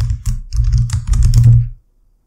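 Close, loud typing on a computer keyboard, with a fast run of key presses clattering together for under two seconds before it stops abruptly.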